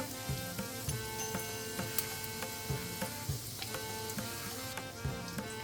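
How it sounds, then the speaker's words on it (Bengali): Chhana (cottage cheese) balls sizzling in spiced oil tempering, a steady quiet crackle with a regular run of small clicks and ticks, close but fairly faint and with no voices. "এবার এটাকে নাড়াচাড়া করব এর মধ্যে আমি হালকা করে ছানার বলগুলো ছেড়ে দেব"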